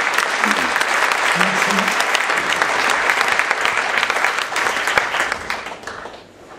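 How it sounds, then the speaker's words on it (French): Loud, sustained audience applause at a personal-development conference, thick and continuous, with a brief spoken word at the start and a fade toward the end. "Vous pouvez les applaudir, ils ont été patients."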